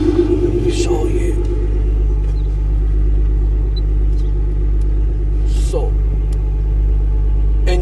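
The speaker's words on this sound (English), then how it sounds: "the car's running perfectly fine right now" A car engine idles steadily in the background, a constant low rumble with a faint mechanical hum, while a person talks briefly over it; the car has a possible coolant leak when hot.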